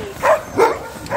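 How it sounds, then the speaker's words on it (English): Alaskan Huskies at a snowy Alaska dog-sledding site let out two short, close yelping barks in quick succession, with the start of a third at the end. "Yeah, they're called Alaskan Huskies."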